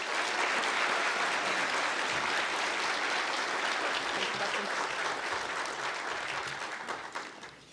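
Audience at the Dubuque County Right to Life 2024 banquet applauding as a speaker takes the stage; dense, sustained clapping fills the room steadily for several seconds before easing off at the end.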